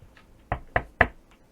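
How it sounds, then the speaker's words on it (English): Knuckles knocking on a wooden desk: three sharp, close knocks in a quick, even rhythm with faint taps around them, alone without talk. "I was knocking on my desk."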